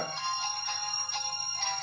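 Thin tinny music plays from a Fire-Boltt Ninja Talk smartwatch speaker, a faint steady electronic melody with a repeating tone pattern and no talking.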